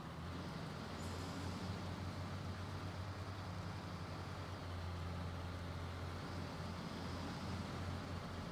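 Truck engine in Snowrunner on an Alaska map, running without all-wheel drive or diff lock, holds a steady low drone with a sustained hum. It plays alone at moderate volume, with no sharp peaks.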